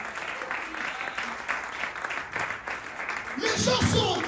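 Church congregation clapping in praise of the Lord during a Sunday worship service, a steady wash of applause mixed with crowd voices that swells louder and fuller near the end.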